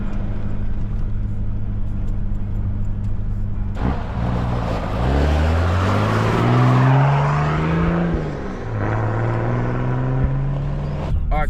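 A four-wheel drive vehicle off-roading in New Zealand's central North Island is close by, with a rumbling engine idling and then revving up and down through several rising and falling pitch sweeps before settling into a steady drone.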